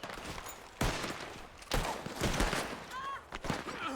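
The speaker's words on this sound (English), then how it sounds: "I'm covering fire." Bursts of gunfire in Red Dead Redemption 2 roleplay: three sharp shot clusters, each followed by rolling echo, at moderate distance with some background noise.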